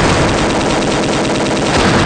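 Gunfire from the Philips CD-i shooter Chaos Control, a loud, unbroken rapid stream of shots filling the whole couple of seconds with no pauses.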